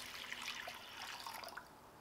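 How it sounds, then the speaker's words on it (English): Water, about a liter, poured into a cooker for melting and rendering beeswax, a steady splashing trickle lasting a couple of seconds, soft and close with no talking. "I'm just gonna add a liter of water here to help insulate the beeswax as it"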